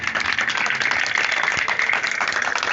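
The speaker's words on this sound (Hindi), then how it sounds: "जोरदार तालियां बजाएं।" A church congregation in Kasur claps loudly in praise, a dense continuous patter of many hands ringing out evenly throughout.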